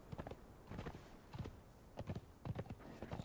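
Horse hooves clip-clop in an uneven, quick rhythm while riding in the video game Conan Exiles, quiet and fairly close, with no voices over the steps.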